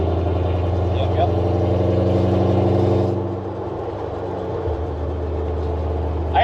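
A drift-built BMW E39 with a straight-pipe exhaust cruises at night, its steady low engine drone filling the cabin, then easing off partway through.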